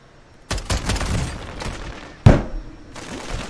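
Video game gunfire, including a sniper shot: a sharp loud crack at about half a second, a second heavy blast near two and a quarter seconds, and scattered lighter shots and rumble in between.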